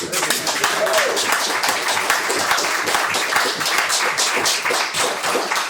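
A crowd applauding steadily throughout, dense clapping with a few voices mixed in, sustained at a fairly loud level.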